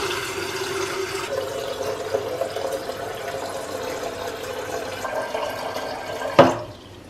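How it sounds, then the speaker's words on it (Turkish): Water runs and trickles into an electric kettle during descaling, a soft steady pour that ends in a short sharp clatter near the end. "Ve kirecin olduğu bölüme kadar su ilave edeceğim."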